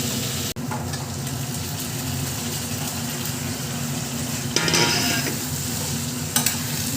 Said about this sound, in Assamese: হালধি গুড়ি, ধনিয়া গুড়ি, জিৰা গুড়ি সকলোখিনি গোটেইখিনি মছলা দি কেনে গোটেইখিনি একেলগে ইয়াতে ভাজি ল'ম মই এতিয়া